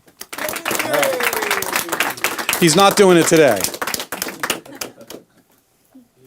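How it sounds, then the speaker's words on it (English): A masterclass audience breaks into a loud round of applause with dense, fast clapping that fades out near the end, while someone talks over it. "Can we get a round of applause?"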